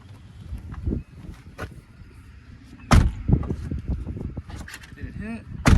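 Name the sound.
car door of a C6 Corvette closing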